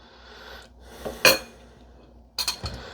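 Ladle scooping chili from a pot into a bowl at home, with a few sharp metallic clinks and scrapes against the pot rim, close and clear over a quiet room.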